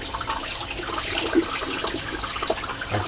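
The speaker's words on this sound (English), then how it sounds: "I just pour water straight down into it." Tap water poured straight down into the knot of a big shaving brush, a steady, close splashing and trickling wash that runs continuously, with no talk over it.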